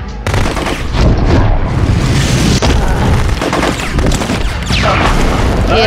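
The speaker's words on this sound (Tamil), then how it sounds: "ஏ ராக்கெட் வச்சு சமைக்கிச்சு" Rocket explosion in the Hulk 2003 video game, a loud continuous barrage of booms and blasts filling the whole stretch, dense and close with gunfire-like rattles over a heavy rumbling bed.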